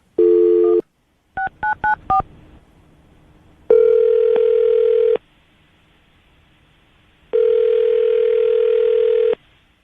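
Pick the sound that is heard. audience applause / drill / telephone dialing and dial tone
telephone dialing and dial tone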